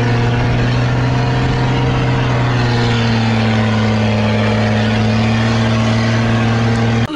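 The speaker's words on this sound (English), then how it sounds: "That truck ride was amazing." Loud, steady engine drone of an old truck hauling passengers across the Tengger Desert dunes, a constant mid-pitched rumble with strong low harmonics holding even throughout, alone without talk.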